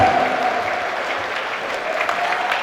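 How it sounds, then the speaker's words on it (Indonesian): Audience applause at a national-spirit forum held on a university campus in Malang, a large crowd clapping in a dense, steady wash that stays even throughout, heard a little distant and without speech. "Tepuk tangan."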